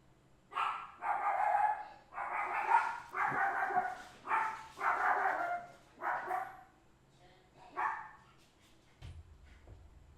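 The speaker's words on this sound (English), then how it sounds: "Guard dog extraordinaire." A guard dog gives a series of loud, close barks in uneven bursts, then falls quiet near the end while background sound continues.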